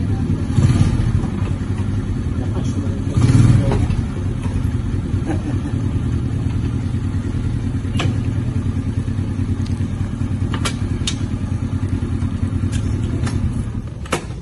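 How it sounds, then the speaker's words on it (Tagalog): A Rusi Smart 125 motorcycle engine drones steadily while riding on the road, a loud, continuous mid-pitched hum with slight swells in revs and wind rush throughout. "Yan po yung ating motor, ang Smart 125 ng Cruise."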